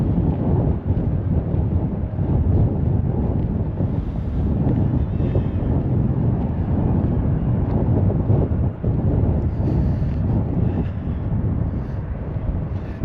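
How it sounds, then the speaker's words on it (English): Strong wind buffeting and roaring across the microphone, a constant low rumble throughout with no letup. "a little bit windy today"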